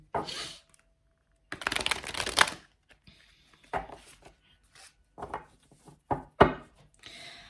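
Tarot cards being shuffled, irregular riffling bursts and soft slaps of card stock, close and dry, separated by short silences.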